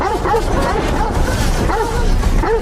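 Dog barking and yipping from a film playing on screen, a rapid run of yelps under continuous background sound with some voice mixed in.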